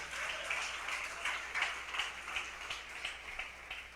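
A church congregation claps in a sustained burst of applause, dense and steady, gradually thinning toward the end.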